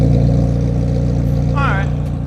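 Loud, close idle of a 2019 McLaren Senna MSO engine, a deep steady rumble with a low throbbing pulse, while a voice speaks briefly over it.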